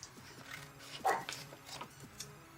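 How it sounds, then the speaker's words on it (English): A pet dog named Sugar barks a few faint yips in a room, a short burst standing out near the middle amid quiet background. "Sugar, are you barking again?"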